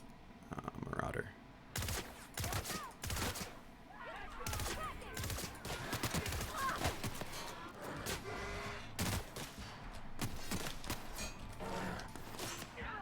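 Assault rifle gunfire in The Outer Worlds video game, with bursts of shots that come and go over busy game action and ambience, fairly close and moderately loud.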